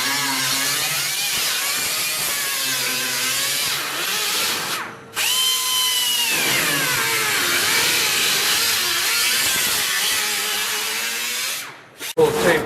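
A power tool cuts and trims a steel floor pan patch on a 1967 El Camino, its high whining motor rising and falling in several bursts with brief pauses, loud and close.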